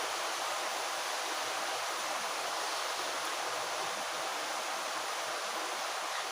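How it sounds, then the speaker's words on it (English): Heavy rain pours down outdoors in a dense, unbroken roar of steady hiss that stays loud and even throughout, with no voices coming through. "So it's raining, it's pouring. I hope you can hear me over and above it."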